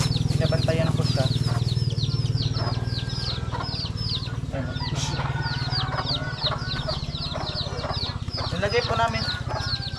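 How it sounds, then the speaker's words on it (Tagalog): Flock of chickens clucking continuously while feeding, with many overlapping calls near and far and faint speech in the background. "Maraming mga manok din na kumakain."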